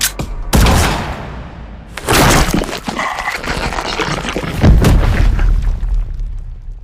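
Sound effects in an audiobook of a gun fired at a creature's head: loud booming blasts with heavy low thuds and crashing noise, a few separate hits spread across the stretch, no narration over them.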